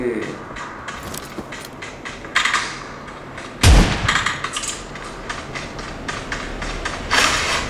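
Gunfire in the PUBG video game: a few sharp shots, one especially loud crack, over steady game ambience while someone talks throughout.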